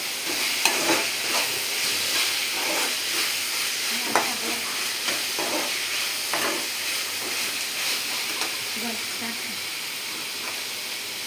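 Washed poha being stirred in a hot pan for upma, a steady close sizzle and hiss with repeated scraping strokes of a spoon throughout.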